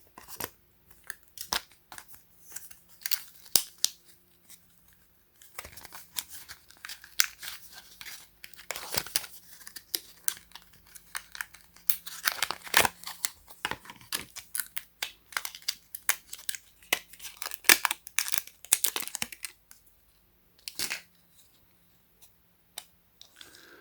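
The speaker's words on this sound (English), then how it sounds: "So I'm going to cut this open." Brand-new retail packaging for an AKASO V50 Pro action camera being cut and torn open, with repeated sharp snips, crinkling plastic and tearing bursts scattered irregularly across the clip, close up, with no one speaking.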